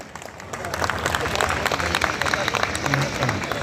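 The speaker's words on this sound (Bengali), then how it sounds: "সেই উন্মোচনকে আমরা অভিবাদন জানাবো করতালির মধ্য দিয়ে" An audience applauds at a photo album unveiling ceremony, dense steady clapping filling the room, with voices mingling underneath.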